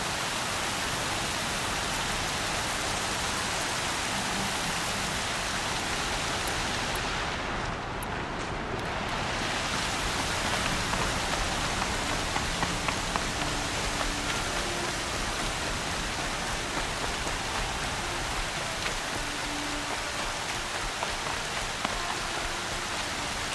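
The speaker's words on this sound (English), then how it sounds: "There's heavy rain." Heavy rain pours steadily in the video game Horizon Zero Dawn, a dense, even hiss of drops on surfaces that stays loud and continuous.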